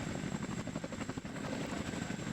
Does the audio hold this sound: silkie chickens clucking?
no